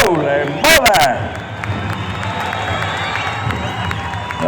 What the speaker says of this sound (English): Ladies and gentlemen, how about a round of applause for this beautiful grand entry?